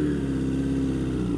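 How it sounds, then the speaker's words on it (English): A motorcycle engine held at high revs from too much throttle gives a loud, steady, close drone with no voices. "Now this time I'll purposely give it too much throttle"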